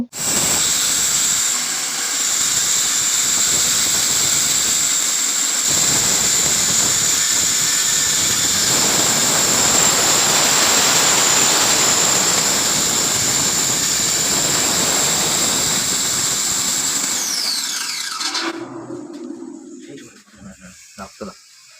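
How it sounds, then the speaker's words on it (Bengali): Flour grinding machine milling wheat into powder for pitha, running as a loud continuous whining roar with a high steady hiss, then winding down and stopping near the end. "প্রথমেই আমরা পিঠা বানানোর জন্য গম পাউডার করে দেখাবো"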